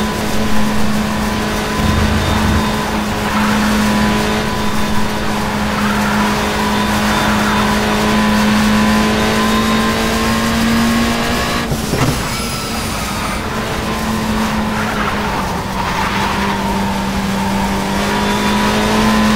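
Touring car engine in the World Touring Car Championship 07 racing game at Curitiba, droning steadily at high revs through a long stretch with a brief dip near a gear change, loud and continuous with faint tyre noise.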